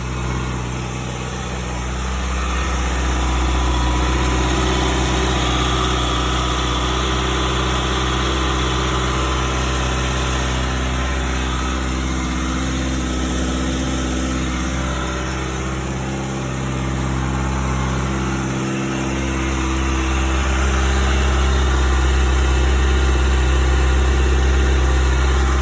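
A Kawasaki Ninja ZX-6R sport motorcycle engine idles steadily after an oil change, giving a constant close, low hum with a faint mechanical whir and slight wavering in pitch across the whole stretch.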